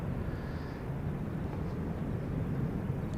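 An 18-year-old airliner takes off from Schiphol's Polderbaan runway, producing a broad, steady engine roar that holds loud and constant with wind rumble throughout.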